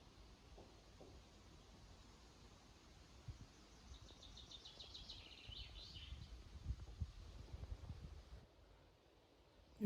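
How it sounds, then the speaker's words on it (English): Birdsong from among trees near a castle ruin, a rapid trilling series of chirps in the middle, set against a steady wash of wind and distant traffic rumble, with no voices. "the birds sound so clear here"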